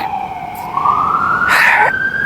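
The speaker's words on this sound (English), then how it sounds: "It's an ambulance." An ambulance siren rises in a loud, close wail that climbs steadily in pitch, with a brief blast of harsh noise partway through and nobody talking.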